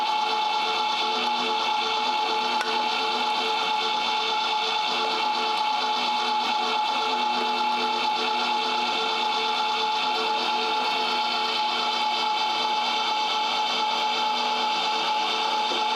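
An electric Meat! Your Maker grinder runs steadily as meat is pushed through with a plunger, a constant close motor whir with a dense, grinding hum that holds evenly throughout with no talk.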